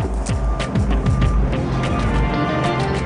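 Subaru rally car engines rumble and rev as the cars arrive in Monte-Carlo, with rising and falling pitch as vehicles move close by, continuous and fairly loud.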